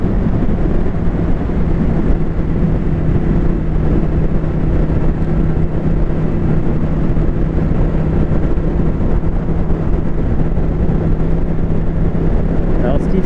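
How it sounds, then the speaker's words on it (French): Strong wind buffeting the microphone during a motorcycle ride on a Triumph Street Twin 2019: a loud, continuous broadband roar with a steady low engine hum underneath, unbroken for the whole stretch. "ça souffle assez fort"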